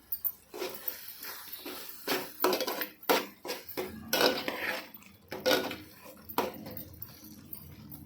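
A utensil stirs chili powder into food in a pan, producing irregular scraping and clattering knocks against the metal, close and fairly quiet with short pauses between strokes.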